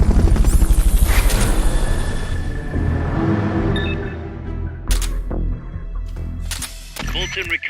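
Helicopter in the video game Metal Gear Solid: Peace Walker, a loud rhythmic rotor thump that fades into a lower hum, broken up by sharp clicks and bursts of game effects.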